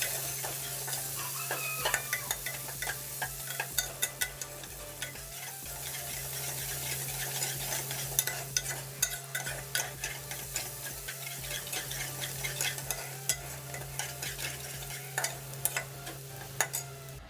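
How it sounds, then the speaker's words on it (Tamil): Two chopped large onions sizzling steadily in hot oil for crab gravy, with frequent scraping and tapping of a spoon stirring the pan, no voices. "பொடிசாக நறுக்குன 2 பெரிய வெங்காயம் உள்ளார சேர்த்து நல்லா வதக்கிக்கிறேன்."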